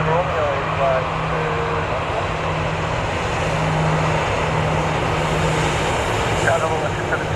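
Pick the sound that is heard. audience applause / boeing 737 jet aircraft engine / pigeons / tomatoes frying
boeing 737 jet aircraft engine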